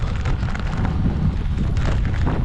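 Strong, steady wind roars and buffets continuously, a dense low rumble with gusty surges throughout.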